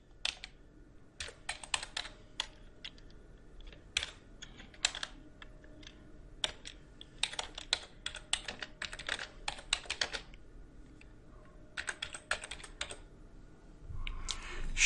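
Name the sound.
typing JavaScript code on a computer keyboard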